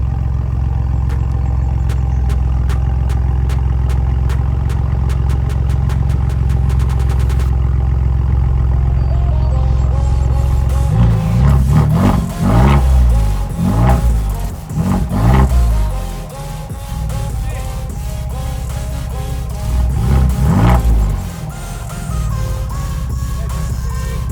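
A first edition Ford Bronco fitted with a new exhaust idles loudly up close with a deep, steady rumble, then barks through several sharp throttle blips in quick succession, settles, and revs once more near the end.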